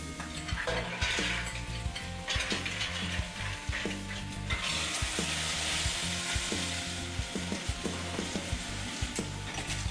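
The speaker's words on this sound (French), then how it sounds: "Faites revenir la moitié du fenouil et des échalotes pour les moules et l'autre pour les coques" Fennel and shallots sauté in olive oil in a pan, giving a close, steady sizzle with repeated scraping and stirring clicks throughout, and no voices.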